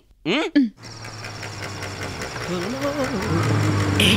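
A vehicle engine running, a low steady idle rumble with a faint knocking pulse that grows slightly louder, following a short burst of voices at the start and with talking heard over it.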